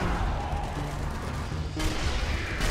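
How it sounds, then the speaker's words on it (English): Gunfire in the video game Sniper Elite Zombie Army 2, a dense run of loud shots and booming blasts that keeps going for under three seconds. "Yeah, I'm shooting right now."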